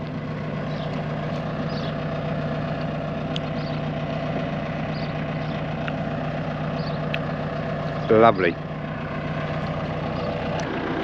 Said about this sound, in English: Again, sorry the tractor's running.